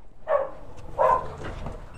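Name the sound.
dogs barking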